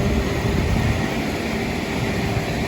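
An Antonov An-24 propeller airliner on a regular route in northern Yakutia gives off a loud, steady engine roar and drone, heard up close and without any talk.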